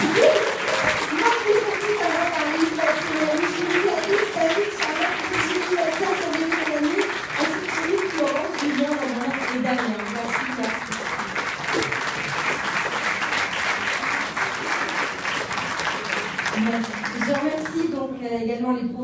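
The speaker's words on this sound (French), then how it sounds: "Antoine, Madeline, Romain, vous devez applaudir" Audience applause at a graduation speech ceremony for a communication master's programme, sustained steady clapping filling the room for most of the stretch, with a voice speaking over it throughout.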